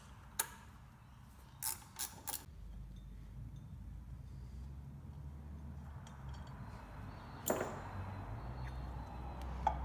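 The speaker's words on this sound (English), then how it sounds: "I'm just using an 8mm geared spanner to loosen that." Faint clicking of an 8mm geared ratcheting spanner loosening a screw on a Porsche 981 coolant pump in a cramped engine bay, a few sharp ratchet bursts spread over a low background hum.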